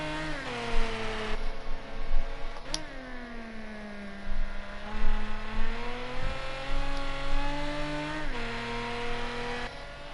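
Nissan Fairlady race cars drift around a track, their engines loud and strained, rising and falling through revs and gear changes with several cars overlapping.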